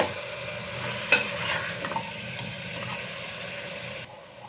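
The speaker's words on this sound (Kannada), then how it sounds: "ಹಾಕ್ಸ್ಕೊಂಡು ಚೆನ್ನಾಗಿ ಒಂದ್ಸಲ ಮಿಕ್ಸ್ ಮಾಡ್ಕೊಳ್ಳಿ" Mutton with turmeric sizzles in an open pressure cooker as a spoon stirs it, giving a steady frying hiss with a few scraping knocks against the pot, close and without talking.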